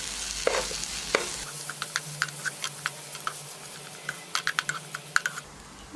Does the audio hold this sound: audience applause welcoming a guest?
no